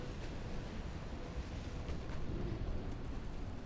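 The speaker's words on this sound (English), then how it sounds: "That's a torpedo hit." A torpedo strikes a battleship in the naval strategy game Ultimate Admiral: Dreadnoughts, a dense, sustained low rumbling blast that rolls on steadily and loud, with no talk over it.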